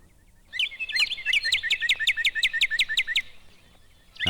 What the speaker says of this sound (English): That's the cardinal.